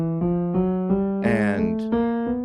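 A chromatic scale played as a musical demonstration moves through a run of short, evenly spaced pitched notes in small steps, clear and close, with one brief noisier note partway through.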